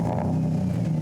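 Car nicknamed the Womp Womp, fitted with a cheap $200 secondhand aftermarket exhaust, gives a steady, loud, rumbling drone that sounds close, with no voices.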